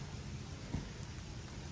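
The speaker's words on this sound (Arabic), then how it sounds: "سامعين المطر؟" Steady rain falls over a forest campsite, a dense, even hiss with no break and no other clear sound, fairly quiet throughout.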